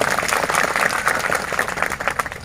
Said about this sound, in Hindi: इन लोगों के लिए भी जोरदार ताली होनी चाहिए